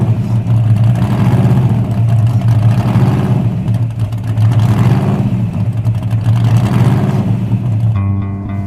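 A 1975 AMC Gremlin V8 at a drag strip, its engine rumbling loudly and nearby in rising and falling revs for several seconds before cutting off abruptly near the end.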